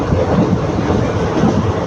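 A superfast express train runs at speed, producing a steady, loud low rumble and rattle heard from inside the carriage, with no voices over it.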